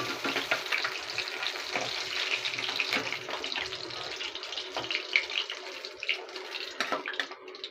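Rohu fish pieces frying in hot oil, a steady dense sizzle with crackles and small pops throughout, close and fairly loud, with no voices.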